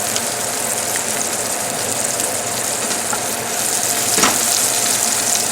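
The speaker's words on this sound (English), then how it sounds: "we're going to add the mushrooms, the onions, cook them with the garlic for a few minutes" Mushrooms, onions and garlic frying in a pan, a loud, continuous close-up sizzle with a brief louder crackle near the end.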